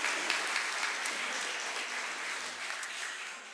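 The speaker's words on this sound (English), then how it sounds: "Give them a round of applause" An audience at an awards night applauds steadily for first aid responders, a dense wash of clapping that fades slightly toward the end.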